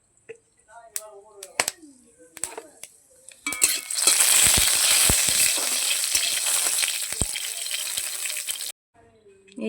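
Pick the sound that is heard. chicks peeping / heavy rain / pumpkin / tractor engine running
pumpkin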